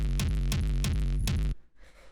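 An industrial techno bass kick layer plays as a dense, loud, rumbling low bass pulse with rhythmic bright accents on top, cutting off sharply into near silence.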